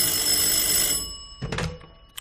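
An office telephone in a French radio drama rings with a loud, continuous bell for about a second, then the handset is picked up with a couple of close thunks and clicks.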